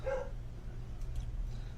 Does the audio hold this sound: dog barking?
yes